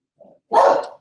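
A dog gives a short, close bark preceded by a small yip, two quick sounds in about a second with silence around them.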